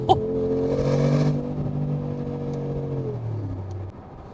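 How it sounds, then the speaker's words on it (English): A 700 HP Brabus G-Class built on the G63 AMG revs hard through its side exhaust pipes, a loud, close, deep roar that holds, then drops away as the engine settles back toward idle. "These side pipes are producing a sound from heaven."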